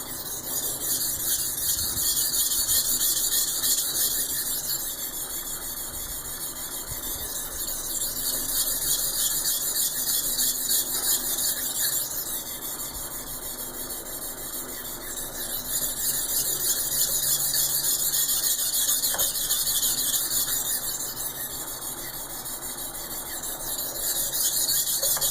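A knife blade scraped back and forth on a sharpening stone to raise a burr, a steady high rasping squeal in long repeated strokes with slight swells, close and alone.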